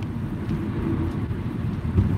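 Rain and rumbling thunder heard from inside a car driving in Las Vegas, a dense low roar of rainfall with a deeper swell near the end.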